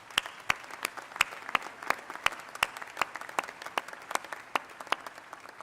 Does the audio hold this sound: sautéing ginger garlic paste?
no